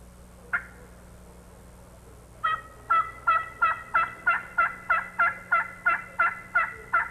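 A turkey mouth call imitates a hen's soft tree calls: one lone note, then a steady run of about a dozen evenly spaced mild yelps and clucks, close and clear against quiet background hum.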